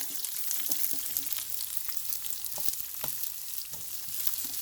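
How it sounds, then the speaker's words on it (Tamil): Chopped garlic leaves frying in a pan, a soft, even sizzle with scattered crackles and light ticks of stirring, close but fairly quiet, no voices. "நாங்கள் வெட்டி வச்சுருக்கிற இந்த உள்ளி சாலை போடுறேன் அதை நல்லா வேக விடுவோம்"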